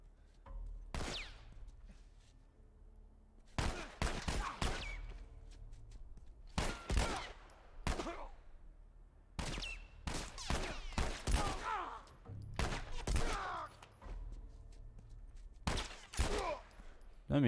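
Gunfire in The Last of Us Remastered on PS4: repeated clusters of quick shots and volleys, fairly quiet, spread across the stretch with short gaps between bursts.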